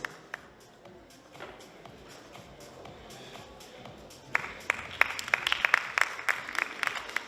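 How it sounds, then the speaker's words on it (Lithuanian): Applause rises in a hall at a men's fitness bodybuilding competition: faint shuffling and scattered taps at first, then a burst of moderate clapping from a distant audience in the second half. "audringi plojimai salėje"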